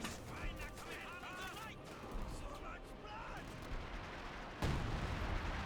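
An artillery barrage in the strategy game Company of Heroes 2 rumbles and booms in dense, overlapping blasts beneath steady spoken commentary, with a heavier impact near the end.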